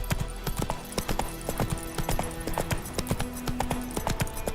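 Horse galloping in The Witcher 3 video game, a quick drumming of hoofbeats over ambient game sound throughout, with no one talking.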